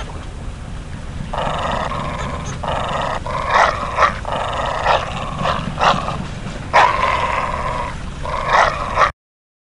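A dog tied up in the blazing sun in the TKKG PC adventure game growls and barks in a run of loud, close, rough bursts over several seconds, with no speech.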